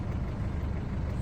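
Steady road traffic on the mountain highway approaching the Atal Tunnel near Sissu, a continuous low rumble of trucks and car engines close by with no talk.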